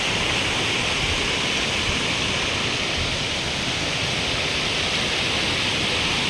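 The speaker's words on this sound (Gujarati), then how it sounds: "અહીંયાથી પણ આ જે પાણી નીચે પડે છે એ પણ ધોધ સ્વરૂપે નીચે જ જઈ રહ્યું છે." Steady, loud roar of a waterfall at Dev Ghat in Umarpada, water pouring down in a dense, unbroken broadband rush with no voices.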